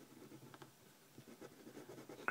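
A pencil draws and shades a Celtic wolf knot design on paper, giving quiet, close scratchy strokes in short bursts with a louder scrape at the end.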